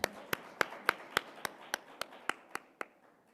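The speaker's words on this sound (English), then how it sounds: "Another round of applause for Mr." Audience applause at a petroleum policy consultation meeting in Gobabis: about a dozen sharp, evenly spaced claps in a slow, regular rhythm, moderately near, gradually fading in loudness toward the end.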